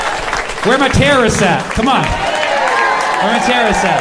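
A comedy club audience claps and cheers during a stand-up set, with a steady wash of crowd noise under a comedian shouting to the room.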